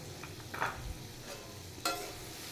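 A spatula stirs bata fish curry in a pan, giving a few soft, quiet scrapes over a faint low sizzle.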